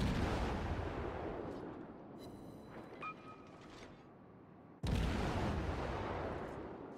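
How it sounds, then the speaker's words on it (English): Warship guns firing in the World of Warships video game, with a loud dense roar of salvos that dies away, a few faint mechanical tones, then a sudden heavy blast that keeps rumbling, with no talking. "Now, Isa is using his guns here"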